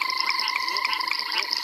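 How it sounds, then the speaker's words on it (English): Broad-banded grass frog calling in a chorus, with repeated short whip-like notes standing out against a dense, steady background of other frogs calling nearby. "And there's that whip, whip, whip again of the broad-banded grass frog."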